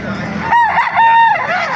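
A rooster with one blind eye crows loudly and close by at a rural gathering, one drawn-out cock-a-doodle-doo lasting under a second over a background of other chickens and murmuring voices.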